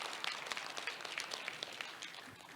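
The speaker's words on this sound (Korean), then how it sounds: "큰 박수로 맞아 주십시오." Crowd at a Korean shipbuilding society conference welcoming a special lecturer with applause: dense, steady clapping with crisp individual claps, moderately faint and even throughout, no talk.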